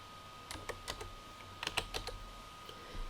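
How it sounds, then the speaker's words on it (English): Keys tapped on a computer keyboard while entering numbers into a calculator field, a handful of separate clicks coming in two short bursts, close and clear against a quiet background. "use your keyboard to add with the plus key, subtract with the minus key"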